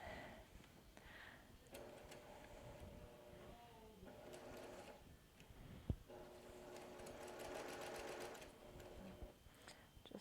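A sewing machine stitches a log cabin quilt block in steady bursts of rapid, even needle chatter, pausing and restarting, close and moderately loud with no talk over it.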